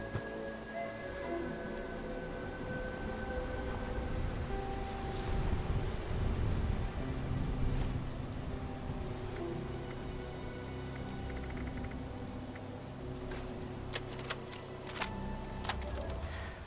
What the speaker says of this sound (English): It's raining through the tent.